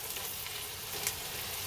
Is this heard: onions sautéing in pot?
yes